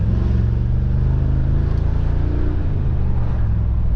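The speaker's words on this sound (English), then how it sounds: "Listen to this driving sound." A Brabus XLP 900 Rocket, a 900 HP build, pulls along at low RPM with a deep, steady engine rumble heard from inside, constant and loud with no talk.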